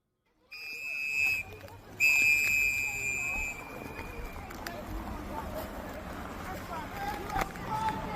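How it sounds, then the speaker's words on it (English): Several shrill whistles blown by bystanders at a protest in long blasts near the start, then shorter scattered whistles over a noisy outdoor scene with people talking and moving about. "Just before the shooting death of Renee Good, the sound of whistles filled the air."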